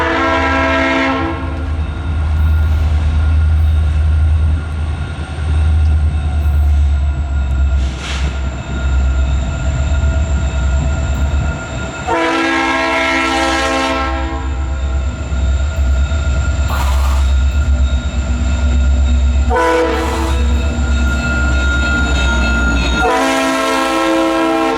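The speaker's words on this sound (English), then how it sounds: "2 of their newly acquired SD60Ms creating a beautiful echo through the tunnel as the train approached the light of day" Two newly acquired SD60M diesel locomotives lead an AVR freight train through a tunnel, loud and close, with a steady heavy engine rumble, reverberant echo and several long, sustained horn blasts.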